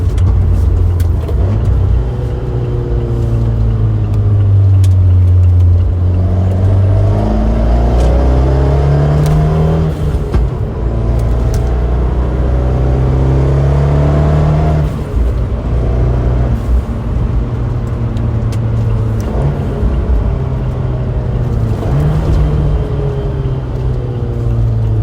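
Big-turbo Abarth 124 Spider engine pulling hard in third gear while driving, a loud steady drone with rising and falling harmonics as the revs build and shift, heard from inside the car with no talking.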